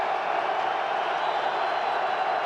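Stadium crowd at a 2005 NFL game between the New York Giants and Washington Redskins in Washington, a steady, dense roar of many voices swelling as a continuous wash without distinct cheers or claps.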